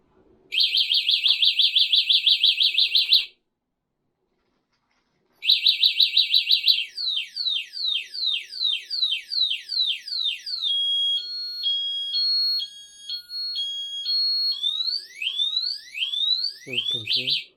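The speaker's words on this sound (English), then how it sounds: "So the alarm very useful." Sealup XLP-Q8 scooter anti-theft alarm sounding loud and close: two bursts of rapid pulsing siren beeps, then a long run of sweeping chirps and warbling tones, ending with a short low tone.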